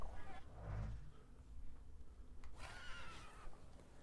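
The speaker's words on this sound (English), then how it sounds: "I meant to take the horse out for a ride, so get on." A horse whinnies twice in the video game The Thaumaturge, fairly faint and spaced apart over quiet background ambience.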